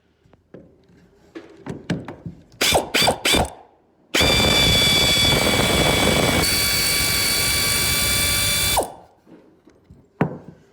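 Ratchet wrench undoing bolts on bus seats during a bus conversion: a few scattered clicks and bursts of rapid ratcheting, then a long loud continuous mechanical whir lasting several seconds before it stops and faint knocks follow.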